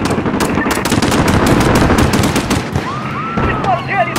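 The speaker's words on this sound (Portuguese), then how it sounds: "Disparos realizados no Piccadilly Circus!" Sustained automatic gunfire from Call of Duty Modern Warfare (2019) during a police shootout at Piccadilly Circus, rapid loud bursts filling the whole stretch with shouted voices mixed underneath.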